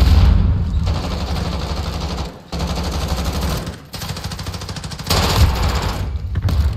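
Mounted gun fire in Call of Duty Modern Warfare, loud rapid automatic bursts in three long stretches separated by brief pauses.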